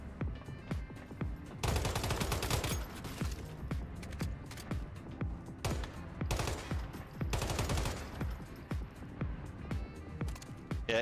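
Rapid automatic gunfire in the survival shooter Once Human crackles in repeated dense bursts over several seconds, loud and close, separated by short pauses filled with single shots and game ambience.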